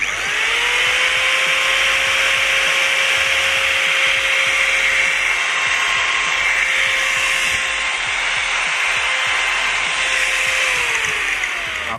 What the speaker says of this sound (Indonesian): jadi sekarang gerinda variable speed ini berfungsi atau hidup tanpa dimmer ya